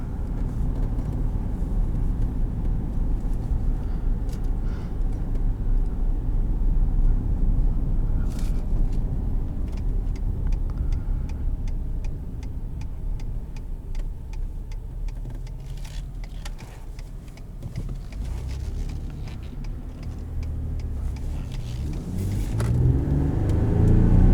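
A 2018 Ford F-150 Sport with EcoBoost engine accelerating on the road in sport mode, steady loud engine drone and rumble with tire and road noise, the engine note swelling near the end, heard from inside the cab.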